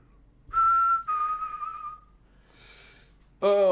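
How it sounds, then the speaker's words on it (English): A man whistles a few sustained, clear tones in short phrases, fairly close and loud, with a brief pause before a final burst. "Oh, I'm a whistler."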